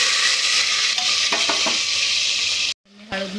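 Onion, ginger and garlic sizzle loudly in hot oil inside a pressure cooker, a steady close frying hiss with a few stirring clinks before it cuts off abruptly near the end.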